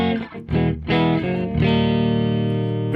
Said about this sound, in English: With the pedal disengaged, this is how the amp sounds on its own.